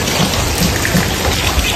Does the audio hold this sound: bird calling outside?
no